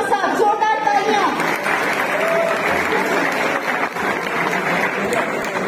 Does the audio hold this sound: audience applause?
yes